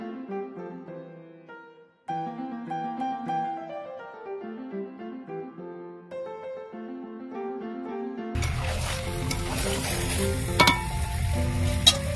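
After a stretch of soft instrumental music, chicken curry cooked with goat fat sizzles loudly in a pan as it is stirred, a close, continuous frying hiss with occasional scraping clicks.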